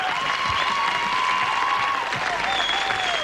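A studio audience on a French TV variety show applauds in a loud, dense, continuous wave of clapping, with a thin high whistle-like tone running through it.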